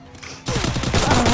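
Heavy volley of automatic gunfire in the Free Fire mobile shooter, erupting suddenly after a short lull and continuing as loud, close, rapid shots to the end.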